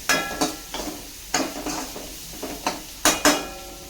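Onion sautéing in a pan over a soft sizzle, punctuated by repeated sharp clinks and scrapes of a spoon against the pan at an irregular rhythm, close by with no talk.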